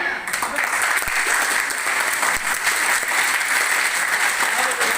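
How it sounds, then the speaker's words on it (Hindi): An audience at a December 31 performance bursts into loud, sustained applause, a thick wash of clapping that holds steady throughout with a few sharper claps near the front. "अरे बजाइए तालियां"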